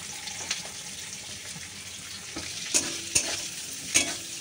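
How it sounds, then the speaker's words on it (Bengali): Beans and carrots fry in hot oil with a constant crackling sizzle, punctuated by a few sharp knocks and scrapes of a spatula stirring the pan. "প্রথমে দিয়ে দিচ্ছি বিনস, গাজর দুটোই দিয়ে দেবো"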